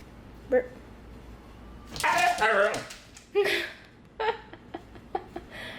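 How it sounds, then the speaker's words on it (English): A dog gives a few short, odd yips and barks, with some whimpery vocalizing, fairly close and spaced out over several seconds. "She has the funniest barks."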